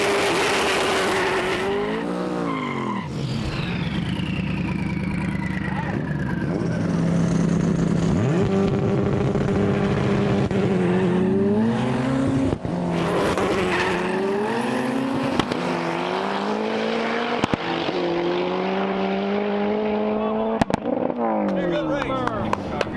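Drag race cars launch down an airport test strip, engines roaring and revving through rising and falling pitch sweeps, loud and close, with sharp bursts and a short tire squeal.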